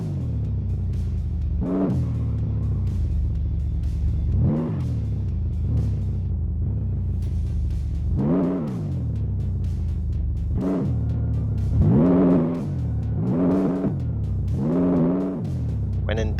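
A car engine in the video game My Garage revs hard at full throttle, rising and dropping in repeated surges across the whole stretch with a loud, steady rumble.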